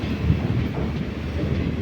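A passenger train rumbles steadily through a dark tunnel, a dense, loud, continuous roar of wheels and carriages with faint clatter and no talk.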